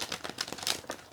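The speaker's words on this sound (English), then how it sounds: "Let me just give the cards another shuffle" Rapid papery riffling and soft slaps of tarot cards being shuffled, close up, in a quick continuous burst with no voices.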